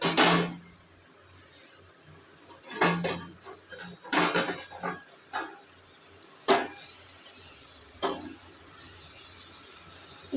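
Red amaranth greens being put into and stirred in a wok on a gas stove, with scattered metallic clanks and scrapes of a utensil against the pan, irregular and close, quieter toward the end.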